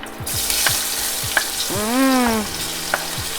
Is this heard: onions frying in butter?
yes